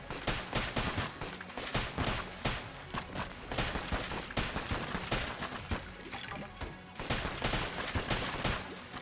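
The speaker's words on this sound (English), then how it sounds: "I am firing triple shots, it's just that the shots home in on the cursor" A weapon in Enter the Gungeon fires triple shots in a rapid, continuous barrage of crackling gunfire, with dense bursts repeating steadily across the whole stretch.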